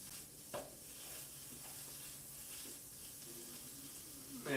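Sausage sizzles faintly in an electric skillet in a hotel room, a soft continuous crackle punctuated by a few scraping taps as the meat is broken up.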